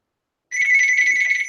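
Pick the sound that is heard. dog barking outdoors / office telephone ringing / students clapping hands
office telephone ringing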